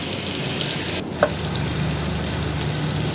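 Whole mackerel (ayala) frying in a pan, a constant bright sizzle and crackle of oil at close range with a brief soft knock partway through and no talking.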